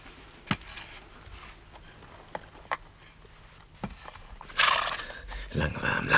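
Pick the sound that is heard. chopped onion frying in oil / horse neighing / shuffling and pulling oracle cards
horse neighing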